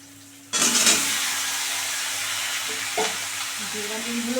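Boiled potato and jackfruit drop into hot oil in a pan: after a quiet start, a sudden loud sizzle erupts and settles into steady frying, with a few soft scrapes of stirring.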